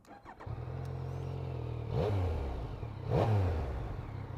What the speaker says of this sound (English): If that engine sounds familiar to you, that's probably because it's a slightly modified tracer engine